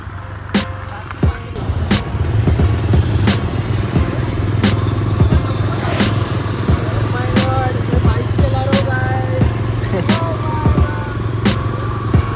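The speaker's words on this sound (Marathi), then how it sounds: "बाईक चला रहा गाईज" A motorcycle engine droning steadily while riding, with repeated rattling clatters and bumps over a rough surface, fairly close and loud.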